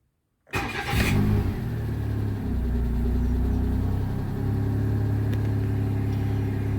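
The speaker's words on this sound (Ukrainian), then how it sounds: "Машинка завелась" A Daewoo Matiz engine cranks and catches after a brief silence, then settles into a steady, close idle that holds for several seconds.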